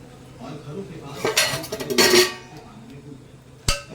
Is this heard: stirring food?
yes